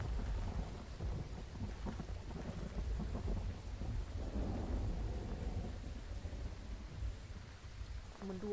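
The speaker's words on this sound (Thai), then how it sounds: "ฝนมันตก" Steady rain with rolling thunder fills a Phasmophobia game scene, a continuous rumbling wash that swells in the middle and carries on without a break.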